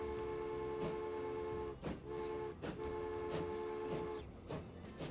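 A train runs in Transport Fever 2, a sustained horn tone held over the rumble of the rails, broken by rhythmic bursts of wheel and carriage noise and fairly loud throughout.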